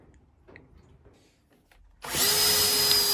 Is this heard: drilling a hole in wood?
yes